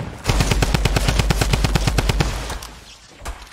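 Rapid automatic gunfire from a newly added weapon in a shooter video game, a steady burst of about twenty evenly spaced loud shots over two seconds, then stopping, with a faint shot afterward.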